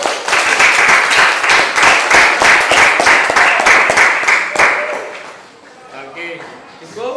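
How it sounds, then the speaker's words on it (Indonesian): A class of students clapping for a student group, dense rhythmic applause close by for several seconds before fading out, with voices talking underneath and after. "kita beri aplaus kepada kelompok YouTube"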